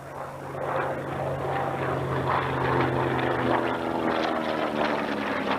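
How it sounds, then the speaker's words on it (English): A propeller airplane drones past overhead at the 1990 Atlantic City Air Show, a steady buzzing engine that rises and fades gently, heard from a distance with no voices. "Showing you the top of the airplane as he goes by."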